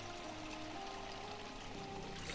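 Water pours steadily into a plastic bottle in Project Zomboid, a faint continuous trickle with a thin rising tone, alone and quiet.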